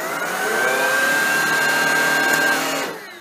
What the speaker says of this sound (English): Now I'll move it to carpet and you'll see that the brush roll spins faster.